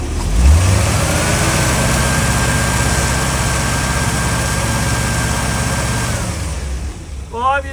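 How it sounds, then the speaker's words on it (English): A car engine with a 12-volt generator and two-coil B-circuit voltage regulator revs up loudly close by, climbing quickly and then holding a high, steady roar for several seconds before dropping off. "To rev it up."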